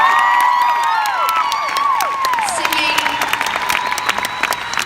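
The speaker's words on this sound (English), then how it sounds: "give her a big round of applause" A large concert audience applauds and cheers continuously for a performer at The Anthem in Washington, DC, with dense clapping, whoops and rising shouts filling the room throughout.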